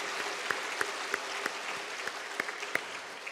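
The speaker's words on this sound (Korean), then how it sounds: "수고하신 분들에게 격려의 박수 보내주시죠." A church congregation claps for the volunteer teachers and young people at a children's festival during a Sunday afternoon service, steady mid-level applause punctuated by several sharper, louder claps.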